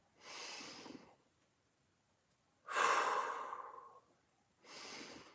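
Three slow breaths during a hip mobility warm-up: an inhale drawn through the nose, a longer, louder exhale pushed out through the mouth, then another nasal inhale, each close and alone with quiet gaps between.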